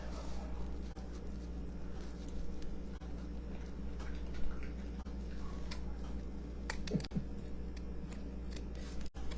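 Scissors cut rub-on transfers from Magnolia Design Co., producing scattered light snips and ticks, close and fairly quiet, with no talking.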